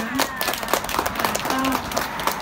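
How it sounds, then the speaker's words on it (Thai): A crowd claps for the donors at a scholarship presentation for students from two schools, with dense, lively clapping running steadily throughout, close and fairly loud, while a voice speaks faintly underneath. "ขอเสียงปรบมือให้หน่อยนะคะ"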